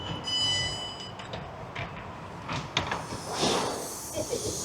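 A train at a busy station platform on the line to London Waterloo, with a steady rumble, hissing and clunks from the carriages filling the scene at moderate loudness.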